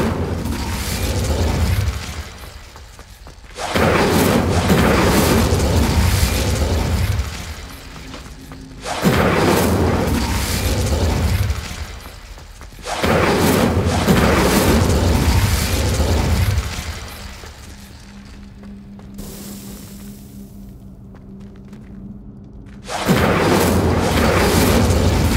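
Incendio fire spells cast in Hogwarts Legacy roar out as loud, broad bursts of flame, four or five long blasts separated by brief quieter gaps, with a low rumbling undertone between casts.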